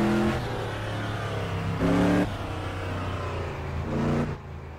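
Three-speed racing truck engine in the Automobilista racing game, revving through gear changes with pitch sweeps and brief shift breaks, loud and continuous with no talking.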